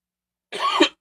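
One short, loud cough close to the microphone, from a man preaching during a church service while recovering from an illness. It comes after half a second of silence and is not followed by any speech.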